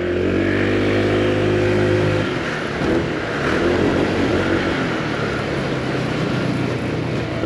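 A 2023 Honda PCX motor scooter engine idles with a steady harmonic hum, then revs up into a loud, rough roar that holds for several seconds.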